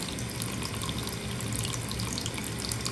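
Tap water runs steadily into a sink while crystals are rinsed under the stream, a continuous close splashing rush with no pauses.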